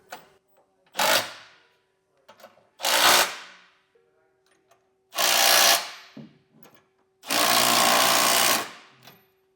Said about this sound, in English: Now we can come back through and snug down all of our hardware.